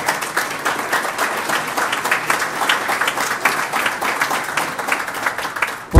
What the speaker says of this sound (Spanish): para quien yo pido un aplauso.